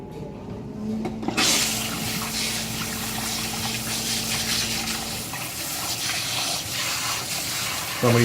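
Water gushing from a barber shop sink tap while hair is rinsed, a steady hiss of running water with a faint hum early on, continuing at close range throughout.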